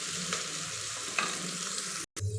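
Garlic, curry leaves and green chillies sauté in a hot pan until golden brown, giving a steady close sizzle with a brief stirring scrape and no talking.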